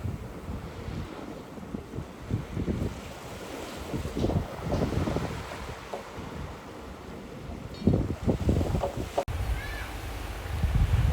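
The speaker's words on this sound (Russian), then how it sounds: "Очень сильный ветер." Very strong wind at the seaside, roaring and gusting steadily as it buffets the microphone, with surf underneath, loud and near throughout.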